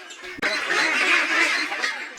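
A crowd of Pekin ducks on a farm of about two thousand birds quacks and honks together in a dense, continuous chorus after a sharp knock at the start.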